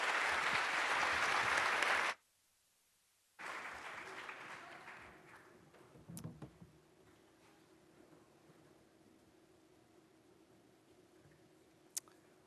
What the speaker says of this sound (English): All right, guys, a round of applause.